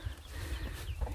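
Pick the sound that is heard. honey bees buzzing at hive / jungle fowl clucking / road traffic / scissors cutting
jungle fowl clucking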